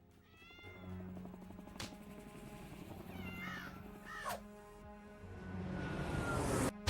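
A cat meows several times in drawn-out, rising and falling calls, fairly close, over a steady low household hum with no talking.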